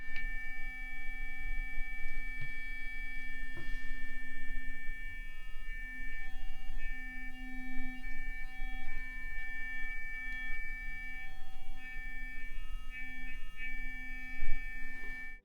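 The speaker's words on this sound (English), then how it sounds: "Here is the sound of it fitted to the Sonicare 4100." A steady electric hum with tonal whine runs continuously, a motorized buzz near the microphone from a Philips Sonicare 4100 electric toothbrush fitted with a Y-Brush head, with a few faint clicks and no talking.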